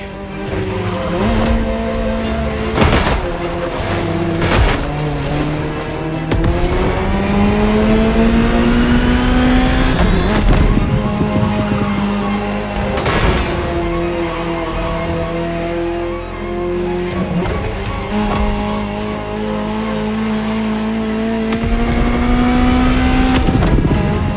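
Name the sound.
Ferrari supercar engine revving, video game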